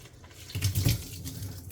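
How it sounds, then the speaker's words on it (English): Tap water runs into a Tritan plastic water bottle as it is refilled, a soft gurgling fill that swells briefly in the middle, fairly quiet and without talk. "So what I'll do is just fill up the water again"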